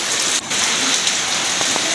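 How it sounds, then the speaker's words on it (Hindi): Heavy rain pours down steadily in a dense, loud hiss of drops hitting surfaces, close and continuous with no talking. "बारिश चेक करो भाई, बड़ी तेज़ बारिश लगी है"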